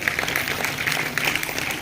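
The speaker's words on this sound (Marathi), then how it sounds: "आपण वाजवा टाळ्या खूप" A gathered audience at an Independence Day school event claps together in a steady, moderately loud patter of many hands that runs unbroken through the whole moment.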